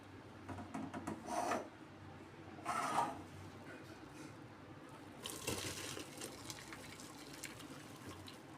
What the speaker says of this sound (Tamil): இப்போ மீல் மேக்கரை ஃபில்ட்ரு பண்ணிக்கலாம்.